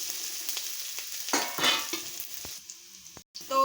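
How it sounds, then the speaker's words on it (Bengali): Onion and green chillies frying in a pan, a close hissing sizzle with repeated stirring scrapes and taps, loudest in the middle and fading briefly near the end. "এটা দিয়ে একটু ভালো করে এটা ভেজে নেব।"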